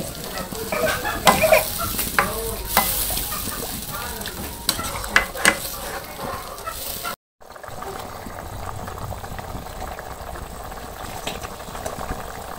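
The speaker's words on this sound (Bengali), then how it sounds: "এখন আমি একটু ঝোল দিয়ে দিব।" Stingray fish curry simmering in a pan after gravy is poured in, a steady close bubbling sizzle with stirring scrapes throughout, a brief gap partway, then a calmer continuous simmer.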